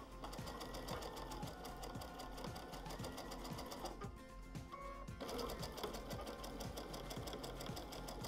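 A sewing machine runs steadily as quilt blocks are stitched together for a daisy quilt-as-you-go block, its rapid mechanical needle rhythm continuous and close with a brief change in tone midway.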